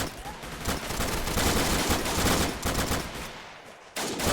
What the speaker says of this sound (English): So the machine gun down here, it's opening fire.